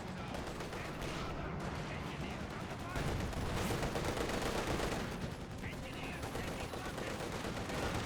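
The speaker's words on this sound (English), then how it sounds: "Dishka firing away against the Volksgrenadiers." A DShK heavy machine gun fires against Volksgrenadiers in the video game Company of Heroes 2, with continuous rattling bursts of automatic fire amid battle noise, loud and dense throughout, while a voice talks over it.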